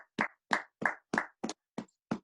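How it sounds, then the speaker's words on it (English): Audience clapping in a few slow, separate bursts, seven distinct claps spaced evenly and close by, with quiet gaps between them. "Keep clapping. Just keep clapping."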